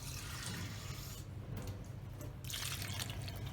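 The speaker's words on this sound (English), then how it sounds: "we'll add 2 cups of water" Water poured into a saucepan of strawberries with caster sugar, a close splashing trickle with a brief lull in the middle before the pour resumes, moderately quiet, with no voices.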